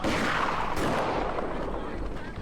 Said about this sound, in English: They should start to come under a pretty terrible barrage from my Infanterie de Marine